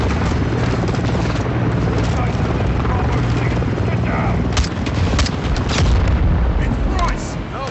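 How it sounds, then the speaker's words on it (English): Helicopter rotor drone in a Call of Duty Modern Warfare 2 battle scene, a dense continuous roar mixed with gunfire bursts and crackling combat noise, loud throughout with voices heard in the mix. "Got a helicopter"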